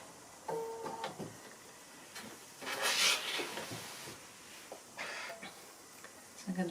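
A sewing machine stitches rows of small quilt squares together in short, rapid whirring bursts separated by pauses, close and fairly quiet.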